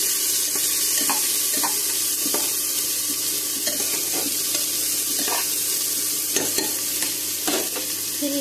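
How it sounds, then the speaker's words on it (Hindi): Chopped onions for jackfruit curry sizzle and fry in a pan while a spoon stirs and scrapes in repeated strokes, close and steady with no talking. "फिर प्याज डाल देंगे, प्याज को 2 मिनट के लिए ऐसे थोड़ा इधर उधर करेंगे इसको"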